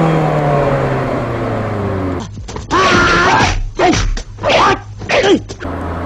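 A Lotus S1 with a Honda K20a engine accelerates hard on the road. Loud engine pulls rise and drop over several gear changes after a quieter stretch.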